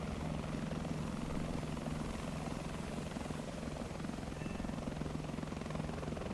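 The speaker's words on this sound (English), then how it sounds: "Is that a helicopter? It is a helicopter. This is the AH-129." AH-129 attack helicopter in the video game Kings of Battle, a steady rotor drone with a low rhythmic chop and engine whine that holds at constant loudness throughout, close and continuous with no talk.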